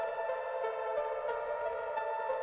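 Layered synthesizer tones hold a steady, eerie drone while soft pulses repeat roughly every third of a second, giving a looping, unsettling feel.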